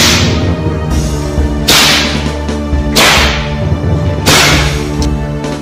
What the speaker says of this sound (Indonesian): dengan demikian maka cambuk Diposongo pun menjadi semakin sering meledak-ledak.